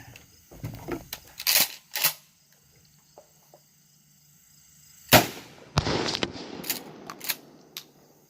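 A 12-gauge shotgun firing 3-inch Winchester 00 buckshot shells outdoors gives sharp, loud blasts spaced seconds apart, with quieter cracks and faint insect chirps between them.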